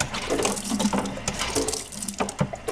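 Running water rinses a wine siphon hose during sterilizing, a steady close splashing flow with small gurgles and shifts as the tubing moves under the stream.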